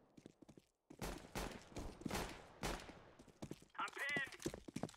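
Bursts of rapid gunfire ring out in Counter-Strike: Global Offensive on de_cbble, loud and close, several separate volleys with short gaps between them, followed by a brief radio voice line.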